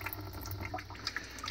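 Water slowly drains from a clogged kitchen sink with soft, continuous trickling and scattered small drips and gurgles, close and fairly quiet.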